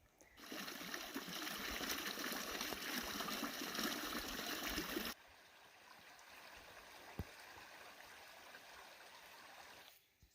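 Creek water flowing beside the Centennial Trail near Rapid Creek, a steady rushing stream that drops to a softer, quieter trickle halfway through.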